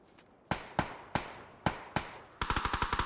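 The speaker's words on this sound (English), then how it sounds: "Here's the shots coming out from Smash" Gunshots in PUBG during a pro esports match: five separate loud, sharp shots spaced evenly, then a fast burst of rapid automatic fire, close and alone.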